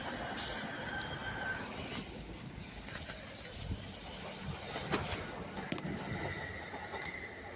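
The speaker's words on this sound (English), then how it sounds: "next train of the day is a service from Fishguard Harbour to Cardiff Central. Formed of 175." A Class 175 passenger train passes at a distance with rumbling wheels and rhythmic rail clatter under steady outdoor ambience, fairly faint throughout.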